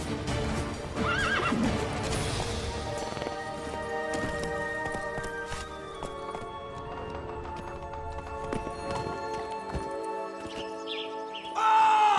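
Roach the horse in The Witcher 3 gallops with steady clip-clop hoofbeats and a loud neigh near the start, while faint birdsong sits in the background.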